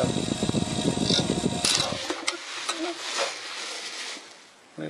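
An RC Logger Eye One Xtreme quadcopter's small motors whir up on throttle, a loud buzzing rotor drone that cuts off abruptly partway through, followed by quieter light clatter.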